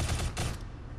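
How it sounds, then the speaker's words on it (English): Rockets firing and exploding in the video game Shadow Complex, two quick loud bursting blasts in rapid succession, then a fading rumble. "Is that rockets? Yep, it's rockets."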